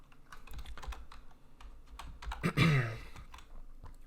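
Rapid typing on a computer keyboard, a quick irregular patter of key clicks close to the microphone, with one louder clatter midway.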